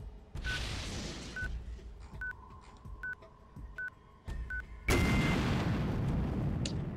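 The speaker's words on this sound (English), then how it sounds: "Alert, missile closing. Tomahawk heavy missile." Tomahawk heavy missile closing in, from X3 Terran Conflict: a string of regular alert beeps over a low hum, then a sudden loud roaring burst that fills the rest of the clip.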